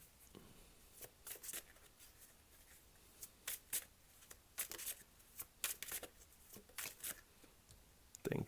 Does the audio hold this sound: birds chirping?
no